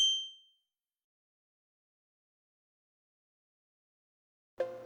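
A single bright notification ding rings out and fades quickly, followed by a long silence before another sound abruptly begins at the very end.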